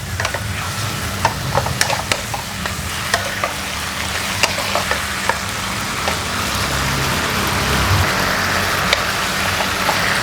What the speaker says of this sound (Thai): ผัดให้เข้ากันนะคะ